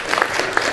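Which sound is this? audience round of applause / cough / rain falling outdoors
audience round of applause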